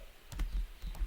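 Keys tap on a computer keyboard in a few quick, close clicks over a second, alone and without talking.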